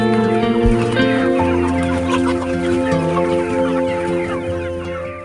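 Young Cornish Cross meat chickens in a setup clucking as a flock, overlapping steady murmurs and calls, close and continuous throughout.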